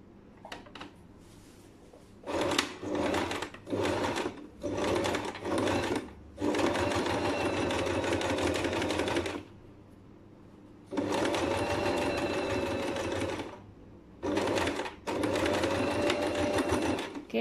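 Sewing machine topstitching a sleeve placket, running in several bursts of steady rapid stitching separated by short pauses, close and fairly loud with no talk.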